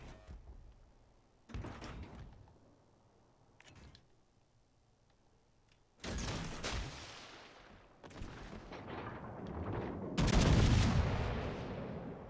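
Heavy naval guns of the battleship Rodney firing in a video game: several booming salvos spaced a few seconds apart, each with a sharp blast and a long rumbling tail, the last ones loudest.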